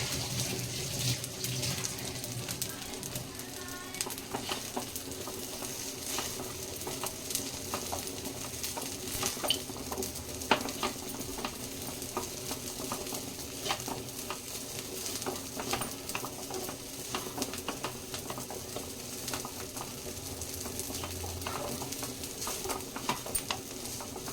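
Vermicelli frying in a pan for semiya upma makes a soft, low sizzle, with repeated scraping and clinking strokes as it is stirred, quiet and close with no talking.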